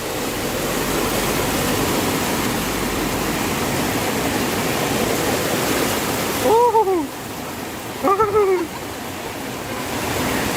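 Floodwater rushes through a flooded neighbourhood in Makassar with a steady, loud roar of broadband noise. Two brief voice calls rise over the water near the end.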